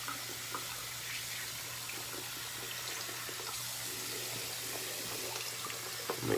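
Tap water runs steadily into a shaving bowl of lather, a continuous close splashing hiss with no pauses, no one speaking.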